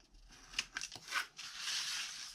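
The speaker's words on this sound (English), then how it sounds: "then we will cut across all of our tabs" Scissors snipping across the tabs of a paper card box made from one 12x12 sheet, a few quick close crisp cuts followed by a longer rasping slice, quiet and alone.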